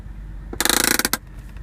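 An Audi R8 parking brake lever ratchets in a quick, close burst of about a dozen rapid clicks that ends abruptly, heard alone in the quiet car cabin.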